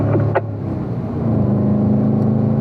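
A Corvette engine pulls hard in fourth gear out of a racetrack turn, a loud steady drone climbing slightly in pitch, with a short click early on.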